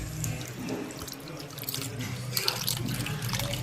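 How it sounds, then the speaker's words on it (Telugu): Tamarind juice is poured into a pan of fish curry, giving a soft, steady trickle and splash of liquid, close and fairly quiet. "ఒక 50 గ్రాములు చింతపండు రసం వేస్తున్నాం"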